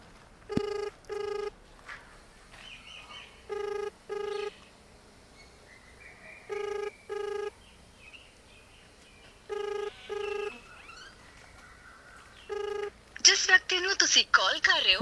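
A telephone rings in repeated double bursts, several cycles with pauses between, unanswered; faint background sounds and a brief noisy burst at the end.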